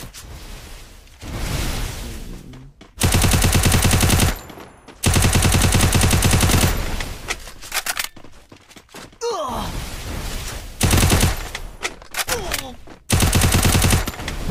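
Rapid automatic gunfire from the Free Fire video game comes in loud, dense bursts lasting a second or more, broken by short gaps with voices and game sounds.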